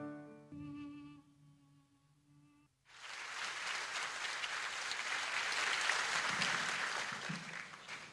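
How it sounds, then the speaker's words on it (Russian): After a few seconds of sustained musical tones, audience applause erupts suddenly and fills the rest of the clip, a broad, steady roar of clapping that swells slightly toward the end. "Спасибо, друзья, за ваши аплодисменты."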